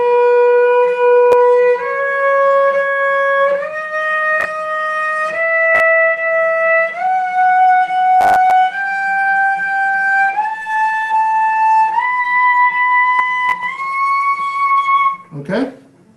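Cello plays a slow ascending scale, each note bowed twice with even stepwise pitch rises, sustained and close, ending with a brief low scrape.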